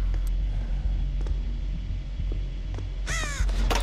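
Crow cawing in the horror video game Dead by Daylight, a short series of harsh, descending caws near the end over a steady low ambient rumble of the game's soundscape.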